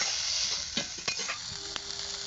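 Prawns frying with onion and green chili in a pan, a steady close sizzle with a few soft stirring clinks and scrapes throughout, no talking.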